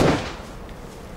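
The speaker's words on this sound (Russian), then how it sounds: "Они еще по ком-то стреляют." A single loud gunshot in the video game DayZ on the Namalsk map, its sharp crack fading into a long, echoing decay.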